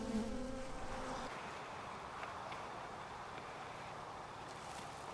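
Honeybees buzz steadily and softly around a hive frame, a continuous low drone with no talking.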